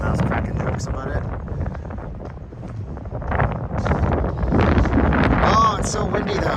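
Gusty wind buffets a handheld microphone outdoors on the Las Vegas Strip near Resorts World, a loud, steady rumble that swells toward the end, with voices and street noise mixed in.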